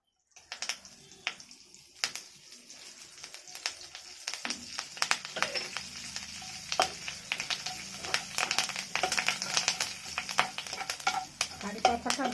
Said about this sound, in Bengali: সর্ষে আর হিংটাকে ভালো করে একটু ভেজে নেব